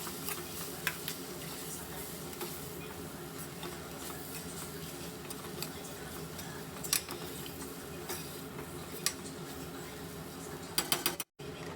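Coriander powder and chili powder stirred in hot oil in a cooking pot, a continuous close sizzle with scraping spoon strokes and occasional sharp clicks, no talk.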